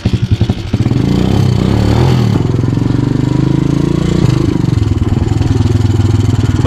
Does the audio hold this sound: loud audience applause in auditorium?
no